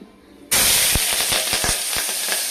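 Onions dropped into hot oil for a chicken curry start a sudden loud hiss halfway through, then crackle and sizzle steadily with a few sharp pops, close by and alone.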